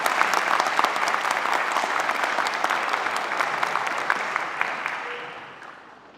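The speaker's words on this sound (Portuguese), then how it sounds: "Uma salva de palmas, por favor, para o excelentíssimo Sr." A conference audience applauds as Brazilian Central Bank president Roberto Campos Neto is introduced, a dense steady clapping that holds for several seconds and then tapers off toward the end.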